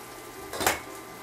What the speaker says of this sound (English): So I butter the pan.